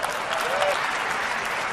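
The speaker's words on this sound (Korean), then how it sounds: "사람들이 신기한 이 기능을 보고 박수를 치게 됩니다" Audience applause at the 2015 Apple keynote, a dense, steady wash of clapping from a large crowd filling the whole stretch at even loudness.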